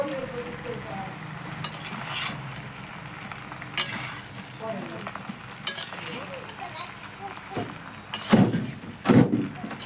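Pasta being stirred in a pan with onion and chilli that were fried first, giving a steady low sizzle with scraping and clinking from stirring and a few louder knocks near the end.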